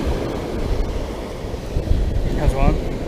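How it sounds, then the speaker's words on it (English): Big ocean waves break on a beach in a steady, rumbling wash of surf under gusting wind, with a brief muffled voice partway through. "Some big waves."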